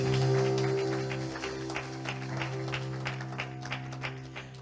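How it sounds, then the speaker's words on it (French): Congregation applause in a church service: a steady, moderate wash of clapping from many people, with sustained organ or keyboard tones held underneath throughout. "Clap for Jesus."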